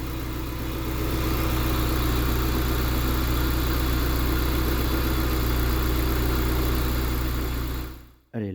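A Peugeot 306 S16 with a six-speed gearbox idles in a garage after an alternator replacement, a steady, even mid-to-low engine hum held close and constant before it cuts off abruptly near the end.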